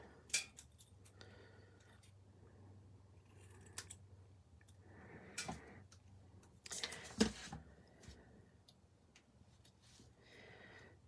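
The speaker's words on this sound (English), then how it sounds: "Again, trim it nice and tight." Scissors trimming paper closely for a stamped handmade card, with soft scattered snips and small clicks in a quiet room, one louder cluster near the end, no talk.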